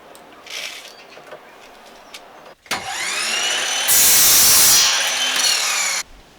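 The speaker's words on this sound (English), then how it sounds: "let's start cutting this timber to size" Power saw cutting timber planks to size for an IKEA storage-box water table: a faint rasp first, then a loud sustained cutting whine that swells brighter midway and stops abruptly near the end.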